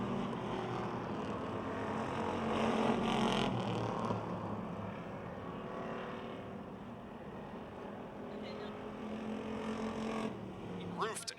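Stock race cars on the final lap at Motordrome Speedway, a distant engine roar that swells and fades as the pack passes, heard under an announcer's voice.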